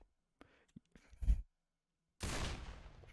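Shotgun fire from the Minecraft HBM Nuclear Tech mod: a few faint clicks and small thumps, then one loud, broad blast near the end that decays briefly, with no talk over it.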